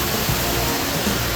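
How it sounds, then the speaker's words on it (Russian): Mountain spring water rushing steadily and loudly close by, a broad continuous wash like a small waterfall at a natural source in the Caucasus, with no talk. "Это именно горный и природный источник."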